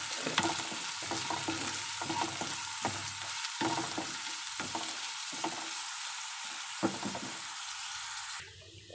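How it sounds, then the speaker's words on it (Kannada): Two chopped onions fry in a pan for squid sukka, a constant sizzle punctuated by regular rhythmic scraping strokes of a spatula every half second or so, fading lower in the final moment; no speech. "ಇವಾಗ ಇದನ್ನು ಚೆನ್ನಾಗಿ ಫ್ರೈ ಮಾಡ್ಕೊಳ್ತೇನೆ"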